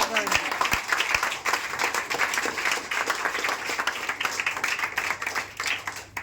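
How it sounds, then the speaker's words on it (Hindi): Audience at a motivational speech gathering claps enthusiastically, a busy uneven patter of many hands throughout, with a few sharp claps standing out near the start. "बहुत जोरदार ताली बजाओ एक बार"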